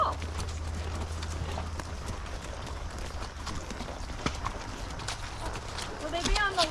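Horse hooves clip-clop in a steady walking rhythm on a soft, muddy rail trail, fairly faint, with outdoor background noise and a brief squeak near the end.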